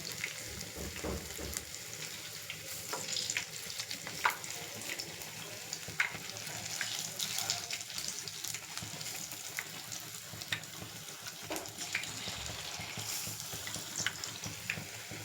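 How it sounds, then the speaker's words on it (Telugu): Garelu lentil fritters frying in oil for jaggery-syrup sweet garelu, a steady soft sizzle with occasional faint clinks and stirring sounds, no talking. "గోల్డెన్ బ్రౌన్ కలర్ వచ్చేంత వరకు మనం ఇలా ఫ్రై చేసుకుని తర్వాత ఇవి తీసుకుని పాకంలో వేసుకోవాలన్నమాట"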